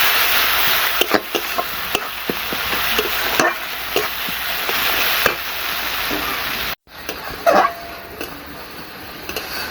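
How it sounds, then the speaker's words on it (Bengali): Masala paste of ground spices, turmeric, chilli powder, pepper and salt stirred and fried in a pan for a fish-roe kalia, with steady sizzling, scattered spoon scrapes, a brief pause, then more frying. "মশলা খুব ভালো করে কষিয়ে নিয়েছি"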